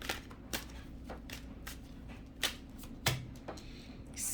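Tarot cards are shuffled and drawn in a few sharp, close card snaps and flicks spaced irregularly over a quiet background, with no talking.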